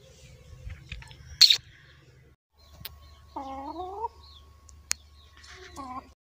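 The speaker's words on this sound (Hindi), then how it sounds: "ये मेरे मुर्गे आ भी गए हैं खाने के लिए" Roosters give two drawn-out, warbling clucks a couple of seconds apart, close by in a quiet setting, with scattered clicks and scratches.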